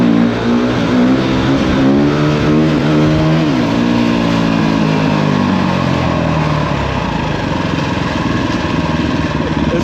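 A dirt bike revs hard on a ride through Philadelphia streets, its engine note climbing and falling through the gears, then settling into a steady loud buzz, close up throughout.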